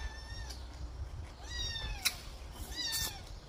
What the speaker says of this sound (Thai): แมวหน่อย